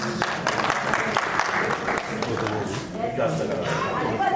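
Audience applause at an award ceremony for an award recipient, steady dense clapping running throughout with a voice faintly audible over it.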